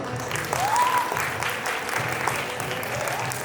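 Wedding guests at an indoor reception clap together in a sustained burst of applause during a cake-sharing game, steady and fairly loud from start to finish.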